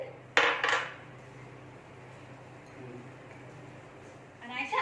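A vegetable and sprout salad with lemon juice and roasted cumin powder is mixed in a bowl, with a spoon clinking against the bowl at the start and again at the end over a steady background and faint voices.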